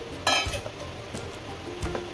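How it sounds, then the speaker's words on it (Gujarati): Fenugreek seeds fry in hot oil for a tempering for traditional jaggery mango pickle, a soft, steady sizzle under a few sharp scrapes and clinks of a spoon stirring in the pan, close and fairly quiet. "ગરમ તેલમાં મેથીના કુરિયા થોડાક આપણે એને હલાવશું એટલે તે શેકાય છે"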